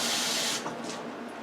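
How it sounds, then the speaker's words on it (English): Half a cup of water poured into a pan of ground beef and baked beans, a bright splashing hiss for about half a second that quickly fades to quiet room tone, with no talk. "let's add a 1/2 cup of water to that"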